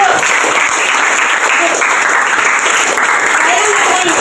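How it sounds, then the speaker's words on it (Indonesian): Classroom group applauding a good answer during an academic coaching session, a steady dense patter of many hands clapping throughout, close and loud, with faint voices mixed in. "Tepuk tangan jawabannya bagus."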